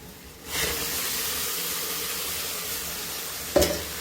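Tomato ketchup and ground tomato hitting a hot pan of browned ingredients, bursting into a loud, steady sizzle that keeps hissing while being stirred, with a short clink near the end.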